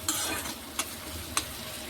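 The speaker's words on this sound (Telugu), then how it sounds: "ఎర్రగా వేగనిద్దామండి. ఎర్రగా వేగిపోయండి." Chicken liver curry frying in a pan makes a brisk, bright sizzle broken by two quick scraping stirs, close and fairly loud with no talk.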